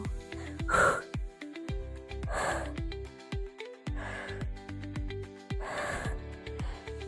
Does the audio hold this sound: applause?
no